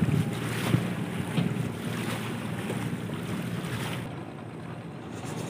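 A barge runs at high speed through the Chợ Lách canal, throwing up waves, with a steady roar of water rush and wind buffeting the microphone, loud and continuous, easing slightly near the end.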